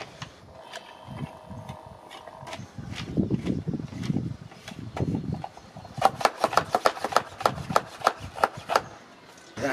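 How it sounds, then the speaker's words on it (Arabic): A hand trigger bottle of homemade insecticide sprays a single plant infested with green caterpillars, giving a rapid, rhythmic run of short hissing spurts up close after earlier rustling and handling noises. "إذن هكذا نقوم بعملية الرش جيدا"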